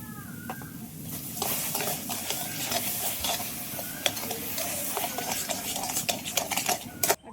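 Sugar being stirred into roasted mango pulp for a mango drink, a steady close-up scraping and stirring that runs without pause, with a few sharper knocks near the end.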